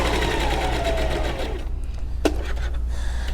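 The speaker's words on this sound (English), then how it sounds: "I'm going to sew the lining." A sewing machine stitches the lining of a pouch bag, its needle running in a fast steady whir, close and loud, then slowing and stopping with a brief clunk near the end.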